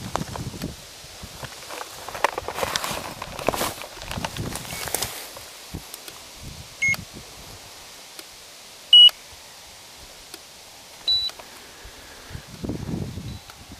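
A DEEPGEOTECH proton magnetometer gives sharp, isolated electronic beeps as army boots sit near its sensor, with soft rustling and shuffling steps between the tones in a quiet setting.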